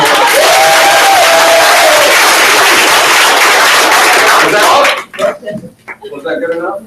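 Audience applause at a sales meeting, a loud, sustained burst of clapping and crowd noise for about five seconds that cuts off, followed by people talking.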